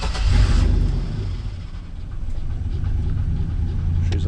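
A truck engine starting on power from dual Group 24 deep-cycle batteries cranks and catches with a loud, close burst of rumble, then settles into a steady, heavy idle.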